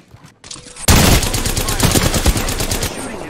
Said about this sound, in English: They're shooting at me. Taking fire!